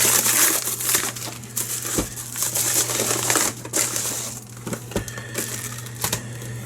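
A cardboard parcel from Canada Post is torn and crinkled open close by, with scattered crunching, tearing and sharp clicks over a steady low hum.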